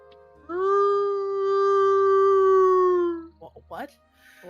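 A long, sustained howl rises and holds steady for a few seconds, loud and clear, then gives way to short yelping sounds. A voice seems to be imitating the howl.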